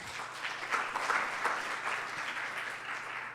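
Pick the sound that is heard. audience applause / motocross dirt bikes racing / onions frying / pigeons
audience applause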